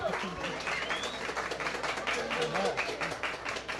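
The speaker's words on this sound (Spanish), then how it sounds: "Un aplauso a nuestros panelistas, por favor." Audience applause, a steady wash of many hands clapping at moderate volume, with some voices mixed into the crowd noise.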